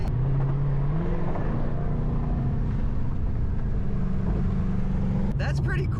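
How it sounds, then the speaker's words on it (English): A 2020 Shelby GT500 cruises along a highway, its engine and road noise forming a steady, close drone with people talking over it throughout. "GT500 on the highway."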